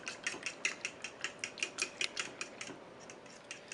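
Rapid rhythmic clinking of a whisk or fork against a bowl while mixing a French toast dipping mixture, a steady series of quick light taps that slows near the end, close and fairly quiet.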